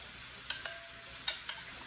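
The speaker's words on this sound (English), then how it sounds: "Give it a little stir" Spoon stirring rice and chicken broth in a pan, five or six sharp metallic clinks and scrapes spaced irregularly over a faint wet sizzle, close and clear.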